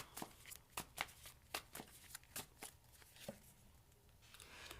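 Tarot cards being shuffled by hand, a dense papery riffle of quick flicks and snaps in an uneven rhythm, close and fairly quiet, with no talking.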